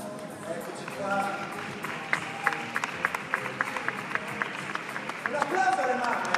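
An audience at the Miss Italia 2016 final in Jesolo claps for the mothers, a steady patter of applause with sharper individual claps that swells toward the end, mixed with talking.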